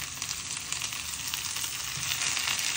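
Onions and tomato fry in a pan with a soft, continuous hiss and crackle, steady and fairly quiet throughout a short stretch with no talking.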